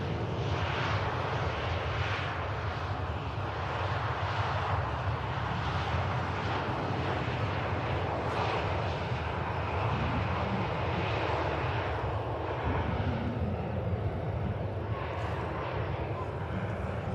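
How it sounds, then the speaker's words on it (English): A TUI Boeing Dreamliner taxiing out at an airport, its jet engines giving a loud, steady whine and roar that holds throughout, with a voice talking faintly beneath it. "Another TUI Dreamliner on the taxi out."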